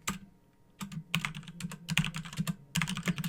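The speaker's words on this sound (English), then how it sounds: "We'll type in," Keys clatter on a computer keyboard in quick, close bursts of clicks, with short pauses between runs of typing.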